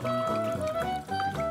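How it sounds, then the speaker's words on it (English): Vegetable oil poured into a jar already holding baking soda, a steady close pour that fills it near the brim, with a continuous gurgling flow over about a second and a half. "Then I'll add vegetable oil and fill it close to the brim."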